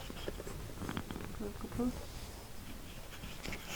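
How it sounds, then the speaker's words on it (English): A cat purrs softly up close in a low, steady rumble, with faint rustling and a brief louder moment partway through. "She's purring."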